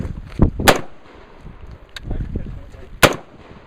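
Gunshots from a Spikes Tactical ST-15 rifle fired on a range: a handful of sharp, loud cracks at irregular intervals, with voices talking in the gaps between the shots.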